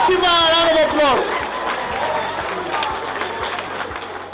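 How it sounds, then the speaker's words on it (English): Audience at a youth summit applauding a competition winner, a burst of clapping and cheering from a crowd that starts loud and fades to a softer patter, with a loud voice over the start. "Give her a round of applause."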